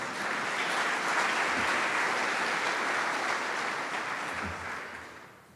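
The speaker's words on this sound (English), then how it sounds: "Give him a round of applause." Conference audience applauding steadily, a dense, even wash of clapping that holds for several seconds and then tapers off toward the end.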